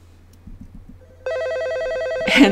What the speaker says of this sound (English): We have an animated phone with sound.